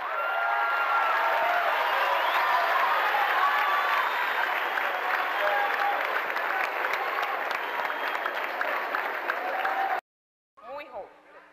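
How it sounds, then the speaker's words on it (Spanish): A large audience at a panel with musicians Silvio Rodríguez and Rodolfo Mederos applauds in a dense, sustained roar of clapping with some cheering, running about ten seconds before cutting off abruptly, followed by a brief voice. "les pido un aplauso ya para despedir este panel"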